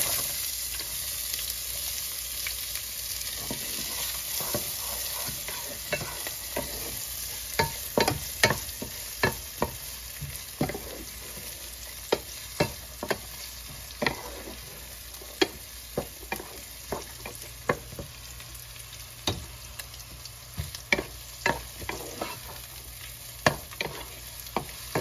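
Onions frying in a pan for a palak matar paneer sabji, a steady close sizzle broken by repeated sharp scrapes and clicks of stirring, with no talk.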